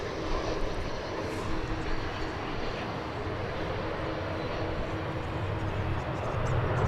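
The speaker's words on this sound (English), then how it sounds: "Comes another Frontier flight, this one from Phoenix. It's an Airbus A320 Neo." A Frontier Airbus A320neo arriving from Phoenix at DFW airport makes a steady, broad jet-engine roar, near and fairly loud. It holds almost unchanged throughout with no clear voices.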